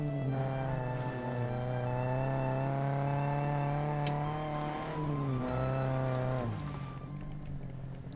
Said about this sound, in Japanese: バイクの音